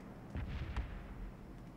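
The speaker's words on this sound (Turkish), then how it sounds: "Şimdi üzerime bomba düşermiş." Red-zone bombs from the PUBG: New State mobile shooter land nearby with a few deep, muffled booms in quick succession, then a low rumbling tail.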